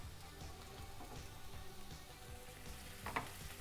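Chopped onions sauté in a pan with a soft, continuous sizzle and faint frying crackle, steady and low throughout, with one small clink near the end.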